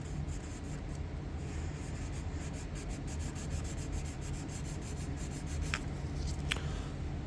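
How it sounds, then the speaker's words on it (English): Rubbing compound worked over a rusty knife blade with a brass liner, producing a steady continuous rubbing and scrubbing sound that sits close and fairly loud, with a couple of brief sharper scrapes near the end and no talk. "Then we can go over it with the rubbing compound again."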